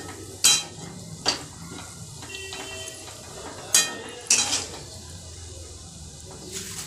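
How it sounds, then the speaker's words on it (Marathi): Green beans and potatoes being stir-fried in a pan, with a steady low sizzle under sharp metallic clinks and scrapes of a spatula against the pan at irregular moments. "एखादा मिनिटभर आता भाजी तुम्ही परतून घ्यायची आहे"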